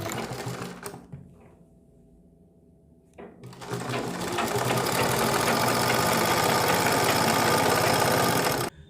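A sewing machine runs a seam along a strip of fabric for a kurti neckline, starting with a brief burst, pausing, then running loud, steady and continuous at close range until it stops abruptly.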